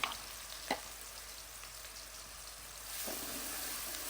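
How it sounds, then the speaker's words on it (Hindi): Onions frying in a pan with cloves for a dal mash dish, giving a quiet, steady sizzle with a couple of brief stirring scrapes and no voices. "प्याज को हम हल्का सा फ्राई करेंगे"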